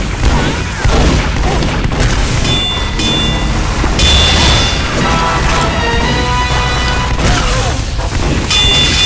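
Dense gunfire and heavy booms in Team Fortress 2 keep up a loud, continuous barrage of overlapping shots and blasts, with speech faintly mixed in.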